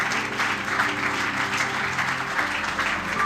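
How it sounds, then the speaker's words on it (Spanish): Church congregation breaks into sustained applause during a worship service, an even wash of many hands clapping with faint voices mixed in. "Denle un aplauso al Señor."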